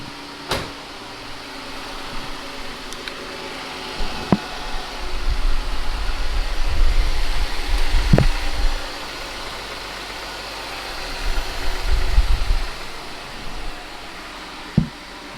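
A 3.6-litre Jeep Grand Cherokee engine idles steadily at a moderate level, with a few sharp clicks and brief rises in rumble, no talking.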